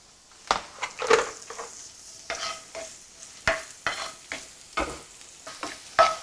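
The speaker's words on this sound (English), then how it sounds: "Fry till you can smell the garlic, it's fragrant." Garlic fries in a pan with prawn stock, a soft sizzle broken by a dozen or so scraping, clacking stirs of a utensil against the pan, close and without talk.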